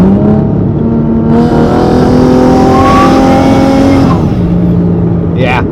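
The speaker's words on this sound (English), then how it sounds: "Turbo sounds insane." A single-turbo Nissan 350Z revs close and loud, its engine note climbing and holding before dropping away, with a rising turbo whine over the top and a short hiss at the end.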